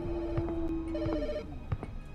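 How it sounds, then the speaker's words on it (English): In a horror video game set at a gas station, a phone rings with a short electronic trill, heard alongside faint clicks and quiet background ambience. "Phone ringing."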